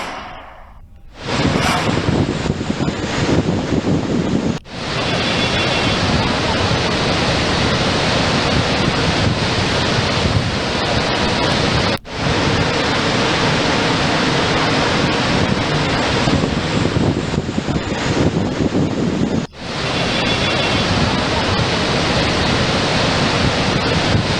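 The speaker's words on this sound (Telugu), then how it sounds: "ప్రాజెక్టుల గేట్లు ఎత్తి నీటిని దిగువకు విడుదల చేస్తున్నారు" Floodwater from lifted dam gates at Krishna river projects in flood roars as a loud, steady broadband rush, continuous throughout apart from a few momentary breaks.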